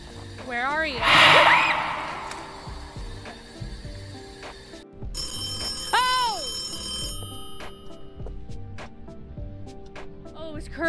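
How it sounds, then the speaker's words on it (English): Phone ringing in a horror video game, warbling electronic trills repeating in short groups, near and fairly loud, with people talking over parts of it. "I thought the phone was ringing in the game."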